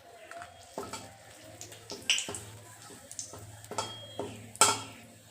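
Bay leaves and dried red chillies frying in hot oil, a soft sizzle under sharp clinks and scrapes of a utensil stirring the pan, repeated every second or so at close range.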